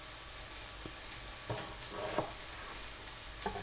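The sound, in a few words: onions cooking in a pan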